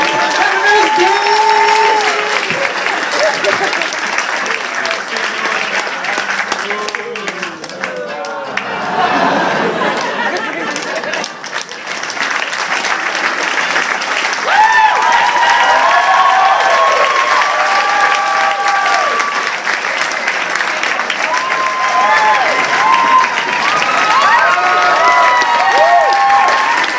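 Sustained audience applause at a Medical University of South Carolina Class of 2017 skit, loud clapping from a crowd with chatter and cheers mixed in, lasting throughout with a dip midway.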